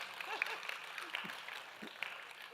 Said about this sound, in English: You got the 18th green applause there